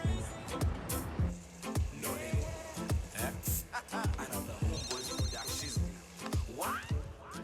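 A telephone rings repeatedly while people talk over it in a drama scene, with the ringing clearly audible beneath the voices.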